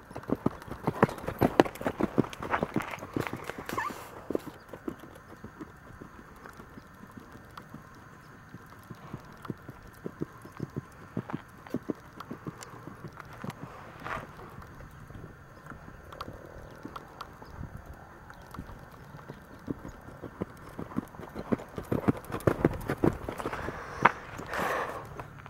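Horse hooves clip-clopping steadily in a cantering rhythm, close by, with the beats continuing throughout and a few quiet voices in the background.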